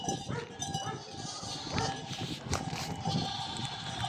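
Sheep on a farm in Villarosa, Sicily, bleat repeatedly amid a noisy outdoor flock, with a dog barking and people talking in the background.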